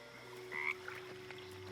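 A frog croaks once in the Baldur's Gate 3 woods, a short bright croak with a faint second call over a steady game ambience of low hum and soft background tones.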